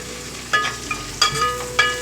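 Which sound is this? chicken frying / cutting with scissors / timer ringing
chicken frying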